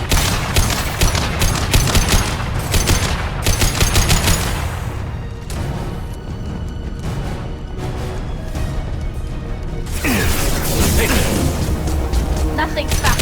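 Rapid gunfire and bursts of automatic weapons rattle through a firefight in the video game Mass Effect 2, loud and dense, dropping briefly midway before heavy shooting resumes, with scattered impacts and whooshes.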